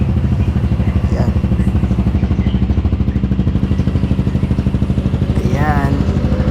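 Honda ADV 350 scooter engine, fitted with a new throttle body, running steadily in a motor shop with a loud continuous rumble and a quick rev near the end, with voices talking over it.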